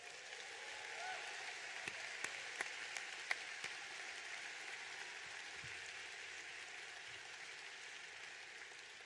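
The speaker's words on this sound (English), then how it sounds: "Graduates, please join us in giving these champions a big round of applause." A crowd applauding at a Cal Poly fall commencement ceremony in 2018, a steady distant wash of clapping with a few sharper nearby claps, continuous throughout.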